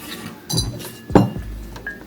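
Two decorative lidded serving bowls are handled in a home setting, giving a few light ceramic clinks and taps. A brighter knock comes near the middle, close and without talk.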